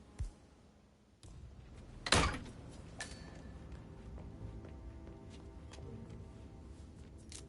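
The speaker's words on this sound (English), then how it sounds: "That is the door to Mr. Fernsby's office." An office door in a video game opens with a sharp, loud clunk and latch sound, followed by a soft ambient room tone and faint thuds.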